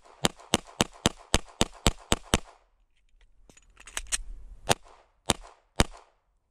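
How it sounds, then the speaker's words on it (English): Rapid handgun fire in the Bear Standard shooting drill, thirteen rounds in under ten seconds: a fast string of sharp, loud shots in an even rhythm, a short pause, then a few final spaced shots. "the Bear Standard has you shooting 13 rounds in under 10 seconds"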